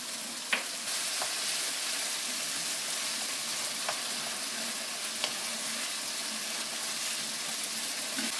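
Pasta cooking water hits a hot pan of garlic and olive oil, a loud continuous sizzle and hiss with a few sharp pops and clicks scattered throughout.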